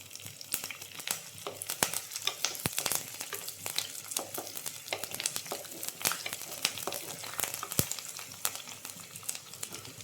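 Curry leaves fry in hot oil in a pan for green peas masala, giving a steady, faint crackling sizzle with scattered sharp pops and no talking.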